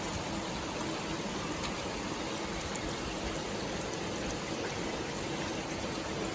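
Water pours steadily into a fingerling fish tank on a fish farm, a constant close splashing trickle like a small stream or gush, unbroken and even throughout with no speech.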